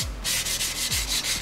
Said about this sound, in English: This is 240 grit dry. I'm going to go over the body filler repairs with that,